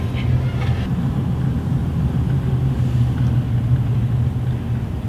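A car rolls slowly through a parking lot, giving a steady low engine and road rumble heard from inside the cabin, continuous throughout with no talk.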